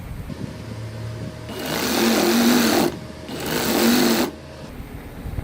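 A sewing machine stitches along the edge of a shalwar hem in two loud bursts of rapid whirring, each a couple of seconds long with a short pause between, close by and without talking.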